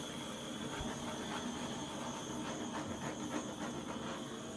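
A torch flame hisses steadily as it warms paint on a piece from about ten inches above, behind a wind guard, a continuous breathy roar with no pauses.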